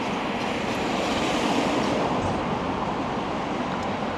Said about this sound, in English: Is that a London Overground, I think?